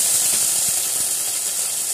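Sauce, chili sauce and Schezwan chutney poured into a hot pan for suji balls, giving a steady close sizzle and hiss throughout with faint scraping ticks, no talk.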